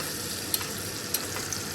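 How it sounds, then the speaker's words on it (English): Butter with rosemary and thyme sizzles steadily in a hot pan while being spooned over a Walmart Wagyu ribeye, a constant bright frying hiss with a few soft scraping clicks of the spoon, no voices. "I'm just gonna throw the butter on this way"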